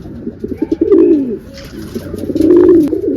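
A pigeon coos loudly and close by, rolling throaty calls repeated in two swelling phrases with no talking.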